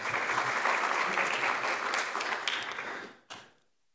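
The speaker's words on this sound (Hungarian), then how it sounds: "Egy nagy taps" A crowd claps loudly and steadily at a Hungarian award ceremony, a dense wash of applause that carries on for about three seconds before tapering off, with a last few claps fading to silence.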